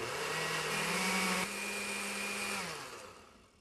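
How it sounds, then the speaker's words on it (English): A kitchen blender pulses a banana and honey breakfast drink, giving a loud, close whirring roar that shifts pitch partway through and then winds down at the end, with no talking. "blender container and pulse until smooth."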